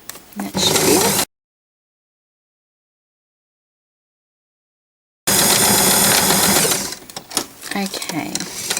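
A sewing machine stitching a Christmas stocking boot whirs in a loud, steady motorized run. A long silent gap follows, then it runs again before slowing into stop-start bursts.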